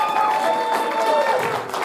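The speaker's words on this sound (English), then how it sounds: "I want everybody to give a huge round of applause for Carey Means" Applause and cheering from a convention audience at a comic con panel, a dense sustained wash of clapping and voices filling the short stretch.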